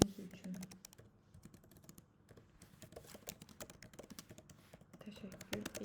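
Text is typed into a message box on a computer keyboard: quiet, irregular bursts of key clicks with short pauses between them.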